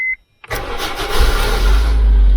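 A Honda Civic engine cranks and catches after a brief silence, then settles into a loud, steady idle close by.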